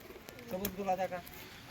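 A caged pigeon gives a short, close, low coo that swells and fades against a quiet background.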